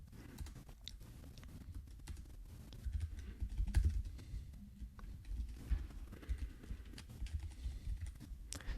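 Keys on a computer keyboard clatter in an irregular run of soft clicks, close by and fairly quiet, with a low background rumble throughout and no one talking.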